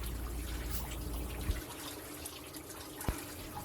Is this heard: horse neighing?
no